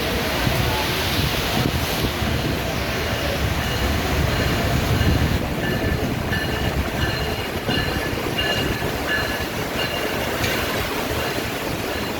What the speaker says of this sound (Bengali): ঢাকা থেকে ছেড়ে আসা রংপুর অভিমুখী সাতশো একাত্তর রংপুর এক্সপ্রেস জয়দেবপুর জংশন অতিক্রম করবে